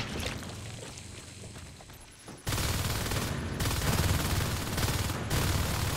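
Rapid automatic gunfire from the Natural Selection 2 video game. Dense bursts grow loud after a quieter opening and continue almost without pause.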